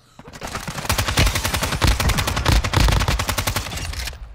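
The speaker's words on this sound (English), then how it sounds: "Is that you shooting at him, Ed?" Rapid automatic gunfire from the video game Warzone 2, a dense stream of loud, closely spaced shots running almost continuously with brief gaps, close and dominant, with no talk over it.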